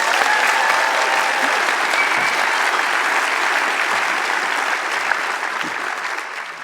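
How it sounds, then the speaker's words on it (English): Sustained audience applause at a lecture forum on noise, dense and steady throughout, slowly tapering near the end with no speech over it. "I'd like her to receive a round of applause."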